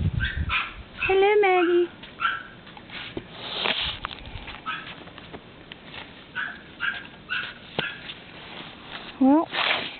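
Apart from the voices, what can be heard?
dog barking, sniffing and whimpering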